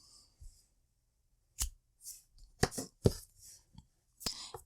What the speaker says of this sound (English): Then we're going to cut a yarn tail